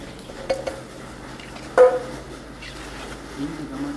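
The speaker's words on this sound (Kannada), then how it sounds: "ಇದನ್ನು ನಾವು ಮಾವಿನ ಮಿಡಿ ಉಪ್ಪಿಗೆ ಹಾಕಿರ್ತೀವಲ್ಲ ಆ ನೀರಲ್ಲೇ ನಾವು ಇದನ್ನು ಹಿಂಗೆ ಕಲಿಸ್ಕೊತೀವಿ" Mango pickle being mixed in brine with groundnut oil gives soft, intermittent stirring and a few light clinks of a utensil against the vessel, faint and close, with a sharper knock partway through.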